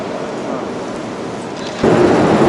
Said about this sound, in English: This has to be the loudest train station I've been in